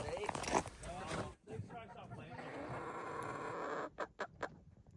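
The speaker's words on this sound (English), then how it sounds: "Good morning, chickens." Chickens on a bison ranch cluck and murmur close by while a person speaks briefly over them, followed by a few sharp knocks and scattered clucks.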